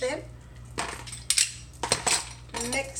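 A metal utensil scrapes and clinks against a pan while mixing a plant-based pasta sauce, several sharp knocks in uneven rhythm, close, with a low hum underneath.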